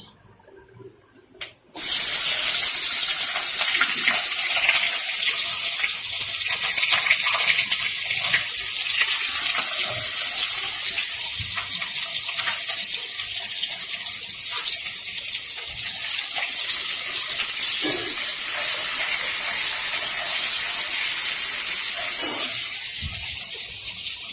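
Onions hit hot oil and set off a loud, steady, hissing sizzle that starts abruptly and carries on for over twenty seconds, close and continuous.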